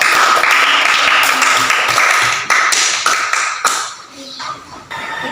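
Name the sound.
applause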